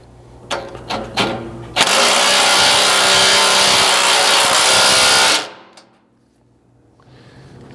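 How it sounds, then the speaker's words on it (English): An impact wrench runs a bolt into a hole in a rear bumper on a 2nd-gen Toyota Sequoia, a loud, steady hammering rattle lasting about three and a half seconds after a few metallic clanks, then stopping abruptly. "you can kind of press this up in here and run it in with your impact"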